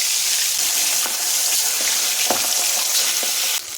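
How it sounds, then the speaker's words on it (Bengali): Pabda fish frying in hot oil makes a loud, dense, continuous sizzle with scattered sharp pops and crackles, close by, with no talking, and it cuts off abruptly at the end. "এখন মাছগুলো ছেড়ে দিচ্ছি। তেলটা গরম হয়ে গেছে।"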